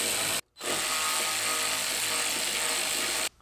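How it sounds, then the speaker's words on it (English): A power tool removing bolts on a BMW E36 M3 brake assembly during a caliper and rotor swap: a loud, steady, buzzing whir runs almost continuously, broken by one brief pause near the start, close up. "finish removing the 16 bolts and then try to remove the whole assembly as one piece"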